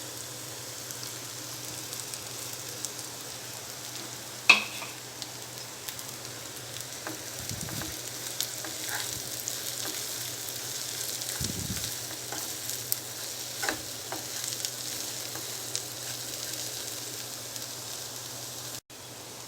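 Tender tamarind leaves fry with onion in a pan, a faint, continuous soft sizzle that runs on at length, broken by a couple of dull stirring bumps and one sharper clink.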